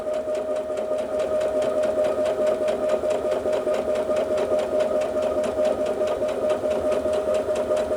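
A Brother Innov-is F400 sewing machine runs at increased speed, a loud steady rapid stitching hum with a fast, even mechanical pulse throughout and no speech.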